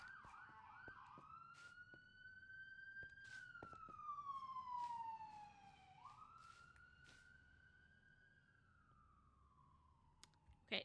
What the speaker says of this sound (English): now that loud ass siren is gone